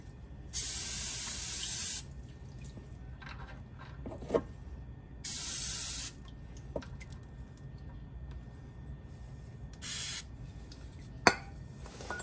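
Three loud bursts of aerosol cleaner sprayed during an oil change on a 2007 Ford Crown Victoria, each lasting one to two seconds, with scattered clinks and small knocks of work in between; no talking.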